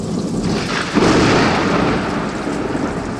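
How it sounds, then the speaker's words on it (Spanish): Thunder rolls through a storm, a deep rumble swelling sharply about a second in and then fading slowly into a long, steady grumble, with a hint of rain beneath. "en medio del cielo lleno de rayos y truenos"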